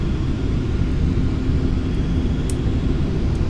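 Boeing B-52H Stratofortress engines in Flight Simulator X give a steady, loud low rumble and drone with a faint high whine, continuous throughout with no talk.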